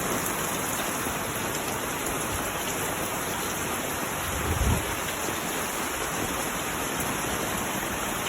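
Rain falls steadily on an open rooftop, a soft, even hiss of drops that runs unbroken, with one brief low thump partway through.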